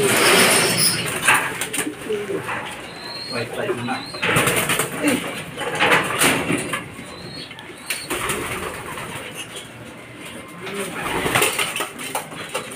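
Racing pigeons arrive at a loft during a fun race, with cooing and flapping wings over steady background chatter and outdoor noise, the bird sounds coming in short bursts throughout.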